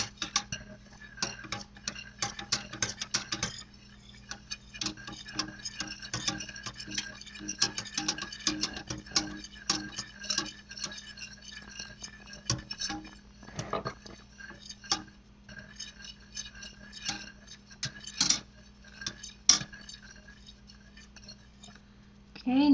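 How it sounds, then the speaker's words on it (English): A whisk beats milk, eggs, butter and flour together in a pot, making rapid metallic ticking and clinking against the sides in fast irregular runs, close and clear, with brief pauses. "we're just going to whisk that together"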